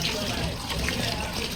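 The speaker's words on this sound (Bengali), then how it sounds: "বাইদো চিকেন ধুয়ে দিচ্ছে" Tap water runs steadily while raw chicken is rinsed in a home kitchen for lunch, a close, continuous splashing trickle with a little clatter.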